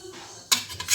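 A spoon clinks against a bowl while a homemade cough remedy is mixed. A few quick, sharp metallic taps come close up after a quiet start.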